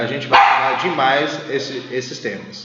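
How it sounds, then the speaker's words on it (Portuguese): A dog barks sharply once, then softer yips and barks continue in the background beneath steady conversational speech. "Desculpa o latido dos cachorros."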